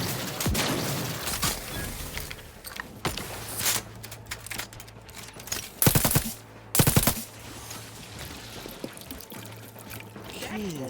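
Phonotron weapon firing in The Outer Worlds, a few sharp bright bursts standing out from a busy game soundscape with steady hum, the loudest pair close together midway.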